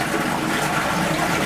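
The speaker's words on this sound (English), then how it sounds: "the water was running all the way down this pipe, splashing into the water at the bottom in the sump" Pond filter water pours down a pipe and splashes into the water of a sump below, a steady close rushing, gurgling wash that carries on without a break.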